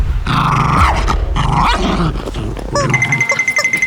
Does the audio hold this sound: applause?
no